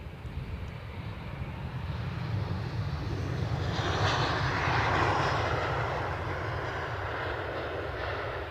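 An airliner's jet engines roar at Edinburgh Airport, a broad steady rumble that swells toward the middle and eases slightly, loud and continuous with no voices.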